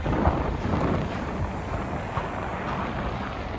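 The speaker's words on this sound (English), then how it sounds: "The wind is sharp, I can tell that" Biting winter wind at -23C with a -38C windchill on a Regina street, roaring as a steady broadband rush against the microphone, gusting slightly louder at the start and never letting up.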